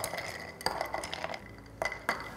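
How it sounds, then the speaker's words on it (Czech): A drink of berry syrup, lemon juice and fresh mint is stirred right in the glass, with light clinks and scrapes of a spoon against glass in a few uneven taps, close and quiet. "A zamíchám."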